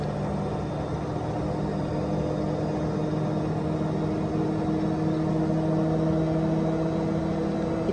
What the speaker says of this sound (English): The spinning is getting intense.